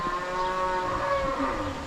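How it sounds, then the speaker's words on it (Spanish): A donkey brays near a historic Jesuit mission garden in Loreto, Baja California, giving a loud, drawn-out honking call that wavers up and down over roughly two seconds without talk. "Ese burro."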